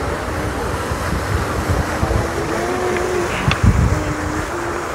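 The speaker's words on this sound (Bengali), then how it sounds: "এদিকে দেখেন ঝর্ণা" A water fountain splashes steadily at Lisbon's Jardim Zoológico, a broad continuous wash of falling water close by, with faint distant voices and a brief clatter near the end.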